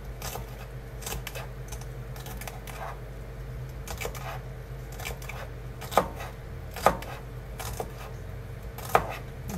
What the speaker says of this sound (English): So I'm going to cut the celery up while that's sitting there.